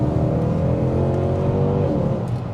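A Mercedes C63 AMG W204 V8 gives a quick, loud rev blast up close, a dense roaring engine note that holds briefly and begins to fall away at the end.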